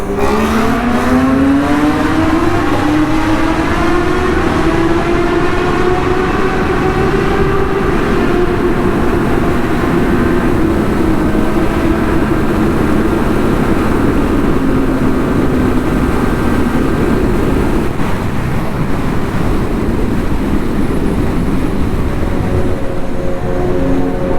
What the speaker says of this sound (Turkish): Şimdi iki tane 4 silindir, bir tane 3 silindir sesi duyacağız